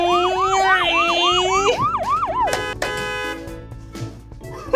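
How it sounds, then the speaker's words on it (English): A fire truck sounds a loud, rising and falling siren wail up close, then gives several sharp, blaring horn blasts that ring out and fade. "Whoa, that horn was really loud."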